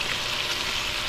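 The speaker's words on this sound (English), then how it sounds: "I love that sizzling sound" Rainbow trout sizzles in a cast iron pan over an open fire, giving a steady, bright crackling hiss that fills the brief moment with no talking.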